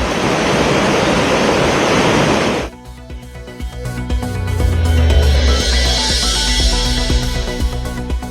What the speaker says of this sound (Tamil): குற்றால அருவிகளில் தொடரும் வெள்ளப்பெருக்கு.